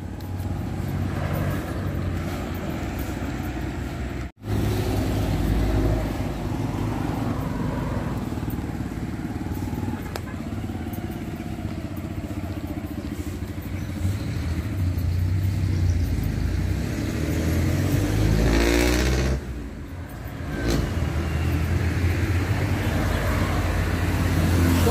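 Continuous traffic rumble at a roadside where people wait for a jeepney into town, with engines passing steadily and a louder vehicle sweeping by near the end.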